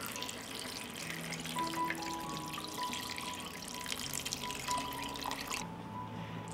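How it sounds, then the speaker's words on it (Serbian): Water pours steadily into a cooking pot holding 700 g of chopped potatoes, a continuous splashing trickle that runs for several seconds and then stops abruptly. "Sipat ću vode da prekrije sve sastojke."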